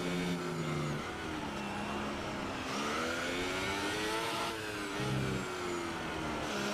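Race car engine entering the pit lane in the video game F1 2018, a steady mid-pitched motor whine with shifting tones as it slows and revs, moderately loud and continuous, no talk over it.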